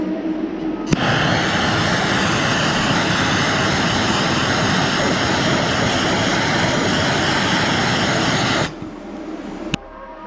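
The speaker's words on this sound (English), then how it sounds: "I'm gonna go ahead and preheat this aluminum with a little MAP gas since the material is kind of thick" A MAP gas torch preheats thick aluminum with a loud, close, steady roaring hiss that holds for about eight seconds before cutting off, followed by a brief click.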